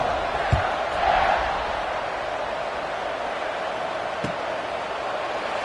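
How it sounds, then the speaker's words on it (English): Stadium crowd at a college football game between ASU and Baylor, a steady broad roar of fans buzzing after a score, continuous and fairly loud with a couple of faint thumps. "this crowd is buzzing after that last score"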